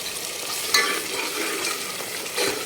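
Mutton curry masala being sautéed in a pan, a steady soft sizzle with scraping stirs and a couple of sharper clinks of a utensil against the metal, close and alone with no talk.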